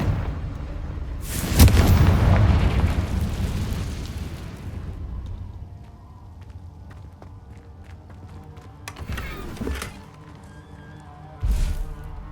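Fiery Confringo spell blasts in Hogwarts Legacy: a loud explosive burst that rumbles and fades over a few seconds, followed later by two shorter, sharper blasts amid low background game sound.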